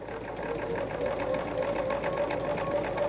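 A freshly cleaned sewing machine runs steadily at quilting speed, a fast continuous mechanical whir with rhythmic needle ticking, close and alone.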